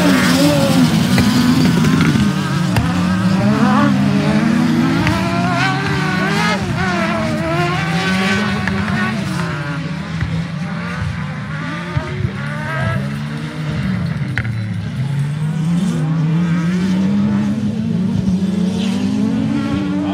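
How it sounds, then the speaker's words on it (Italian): A loud superbuggy race car engine with a slipping clutch revs and surges continuously at an autocross race, pitch rising and falling unevenly, with voices talking over it throughout. "Sento un motore che c'ha la frizione che slitta, sì."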